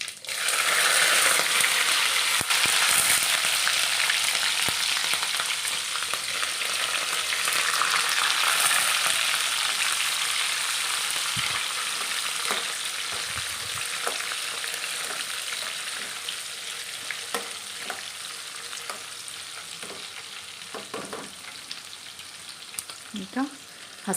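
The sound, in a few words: cumin and green chillies frying for mandakki tempering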